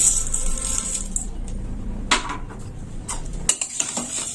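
Spices are worked into a red potato curry in a metal pot, with close scraping and clinking of a utensil against the pot in irregular strokes and a few sharper knocks, no talking.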